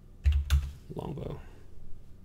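A few quick keystrokes on a computer keyboard, entering a weapon name in a game-engine editor, two sharp taps close together followed by softer clicking under low background noise.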